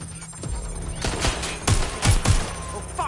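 Several sharp gunshots crack out in the video game Watch Dogs Legion, irregular and close, with a few louder hits toward the end over a low background hum.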